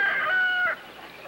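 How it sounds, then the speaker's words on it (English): A rooster crows once, a loud drawn-out call that cuts off abruptly, leaving a quiet room tone behind it. "Rooster crow. Him sound like signal."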